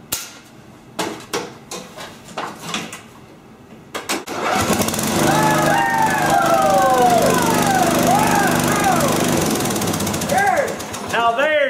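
A lawn mower engine cranks with a series of sharp pulls and knocks, then fires and settles into a loud, steady running drone with shifting whines, close by.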